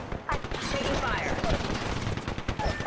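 Dense automatic and rapid gunfire in Apex Legends, a continuous loud barrage of overlapping shots and impacts that fills the whole stretch without a break.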